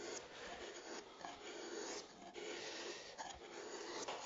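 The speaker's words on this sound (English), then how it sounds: "I am using a 35mm number 3 gouge." A 35mm number 3 gouge cuts wood for a classical guitar back work board, giving a faint, continuous close scraping and rasping with soft repeated strokes and no speech.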